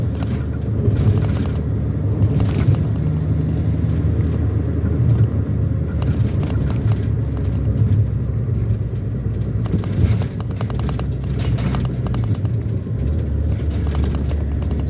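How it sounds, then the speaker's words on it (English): A light, high-revving little Italian Fiat car without power steering, its engine droning loudly and steadily while driving, with road rumble and occasional rattles and bumps over the full stretch. "driving it is a peppy little thing, high revving, Italian."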